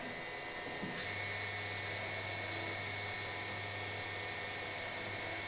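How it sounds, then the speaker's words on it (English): CNC lathe machining OD flats with an X-axis milling holder, a steady whirring machine drone with a constant low hum and broadband coolant-like hiss, continuous and close, no talk. "That's going to be machining the OD flats."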